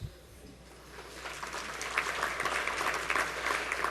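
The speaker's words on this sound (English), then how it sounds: "Enough applause for Bill, please." An audience at a business awards gala claps for an honoured guest as consuls are introduced. The applause starts thin and swells into a dense, sustained patter from a large room, with no voice over it.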